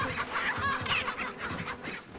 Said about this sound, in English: Dumb chickens.